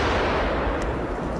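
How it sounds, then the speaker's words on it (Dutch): A Dambam XL firework packed with 700 grams of flash powder goes off, a loud, dense blast that fills the short span with harsh broadband roar and no voices. "Een van de gevaarlijkste soorten vuurwerk dat in Nederland is gevonden is de Dambam XL"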